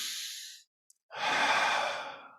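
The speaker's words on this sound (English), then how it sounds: "you can just take some deep breaths" Two deep, slow breaths taken close to the microphone, a long airy exhale followed after a short pause by a fuller, louder breath, with no talking.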